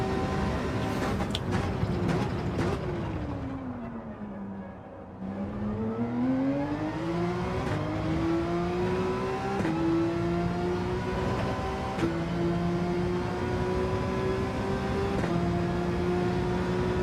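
Engine of a Porsche GR.3 race car in Gran Turismo 7, a loud continuous drone whose pitch dips low as the car slows through a corner, then climbs steadily as it accelerates away, without speech.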